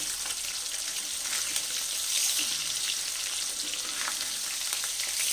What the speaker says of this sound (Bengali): ওই তেলের মধ্যে আমি মাছগুলোকে ভেজে নিচ্ছি।